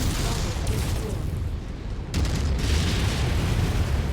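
A loud, sustained explosion rumble as a target is destroyed in the video game MechWarrior 5, a dense roar that dips briefly and then swells again, with game voice lines over it.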